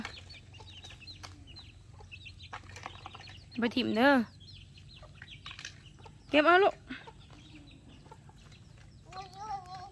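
Two loud, drawn-out hen calls ring out amid faint background clucking, with quiet talk nearby and another call fading in at the end.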